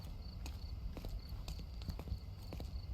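Donkey hooves clip-clopping in a Sherlock Holmes video game, a steady run of soft hoof falls over a constant low ambient rumble with faint insect-like chirps, no talking.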